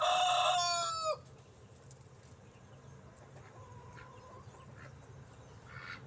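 A rooster in a backyard flock gives one loud, close crow that cuts off after about a second, followed by quieter outdoor background with faint bird sounds.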